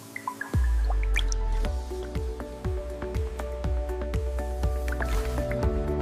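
Liquid dripping and trickling off coach body parts lifted from a phosphating wash in a luxury motorhome factory, as steady repeated drips and splashes over a constant low industrial hum.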